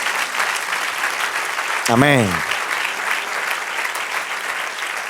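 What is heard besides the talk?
church congregation applauding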